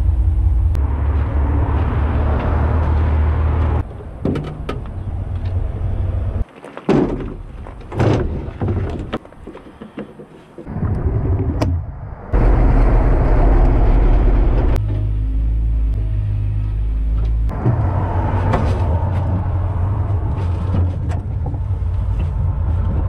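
A WWII half-track rumbles with a loud, low engine drone close by, broken midway by clanks, knocks and door-like thuds as it shifts and lurches, then the heavy steady roar returns and carries on to the end.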